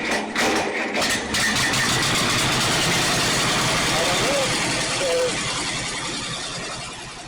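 A Ferguson TO30 tractor engine, freshly fitted with a new fuel valve and carburetor filter, cranks and catches, then settles into a steady close idle that fades slightly toward the end.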